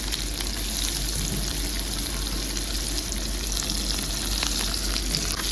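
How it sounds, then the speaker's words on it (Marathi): Garlic, curry leaves, onion and a small green chili fry in hot oil in a pan, giving a dense, steady sizzle and crackle that runs close and loud for the whole stretch with no talking. "आता याच्यामध्ये छान फ्राय करणार हे सगळं"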